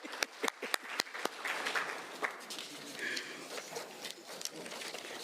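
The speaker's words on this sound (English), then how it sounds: "A round of applause, Madame Dlamini." An audience at a Zimbabwe prisons and correctional service conference on parole applauds faintly and at a distance. It begins with scattered individual claps and settles into a soft, steady patter.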